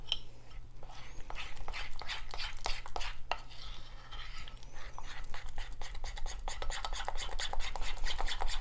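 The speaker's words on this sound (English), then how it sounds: "You just want to mix it till it's smooth and you're good to go on that." A spoon stirs and scrapes through thick cinnamon biscuit icing in a bowl, making close, steady rasping and rubbing strokes with a low hum behind them.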